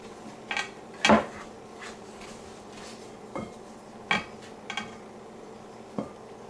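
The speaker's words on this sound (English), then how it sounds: "I'm going to gradually add the flour and stir that in 1 cup at a time" Spoon stirring flour and icing sugar into a fondant dough in a bowl, giving scattered sharp clinks and taps against the bowl with quiet pauses between them.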